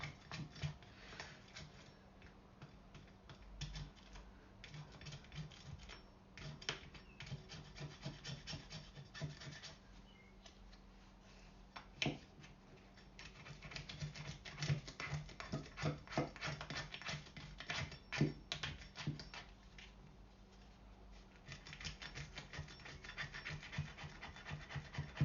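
Steady, close rubbing and scraping sounds as old adhesive is scraped off a BMW E46 M3 hardtop convertible C-pillar. The strokes repeat continuously and fairly quietly, with no talking.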